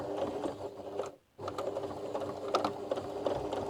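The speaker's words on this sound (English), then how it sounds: "I will sew down the side." A sewing machine stitching a laundry bag seam, a steady close mechanical whir that stops for a brief moment and then resumes.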